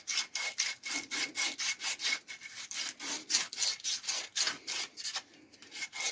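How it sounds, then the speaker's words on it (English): Rhythmic hand roughing of a car suspension bush for a DIY polyurethane bush: about a dozen scraping strokes, close and evenly spaced, like filing or sawing, with no voices. "Give that a good roughing out in there, and that gives a nice key for the rubber or the polyurethane to key into"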